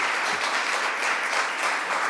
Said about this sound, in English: Let's give our Congressman another round of applause.